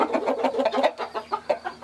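A large farm rooster sounds off close by in a rapid run of throaty clucks, then a few sharper separate calls, loud and with no talking.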